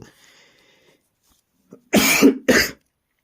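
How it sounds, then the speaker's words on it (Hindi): Two harsh coughs from a teacher during a maths lesson follow a stretch of faint speech and near silence, the first longer and rougher, the second short, both loud and close. "खांसी आ रही है, किसी को प्रॉब्लम तो नहीं हो रही"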